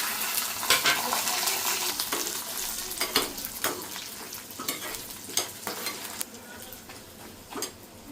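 Oil hisses and crackles steadily as peanuts fry in a pan, with occasional clinks and stirring scrapes on top, close and continuous.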